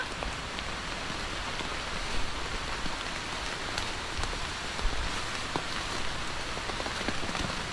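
Heavy rain falls steadily among trees at a pomelo orchard, a dense continuous hiss with scattered louder drops striking nearby surfaces, and no talk.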